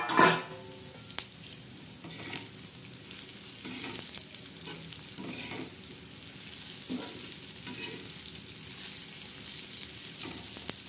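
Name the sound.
coriander seeds and whole spices frying in oil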